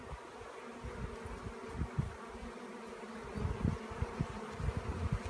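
Many honey bees buzzing steadily around a hive, a dense droning hum with individual insects swelling louder as they fly close past.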